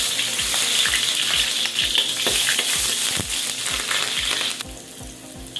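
Garlic dropped into hot cooking oil in a new pan for a mung bean dish, a steady loud sizzle and crackle with rhythmic stirring scrapes throughout.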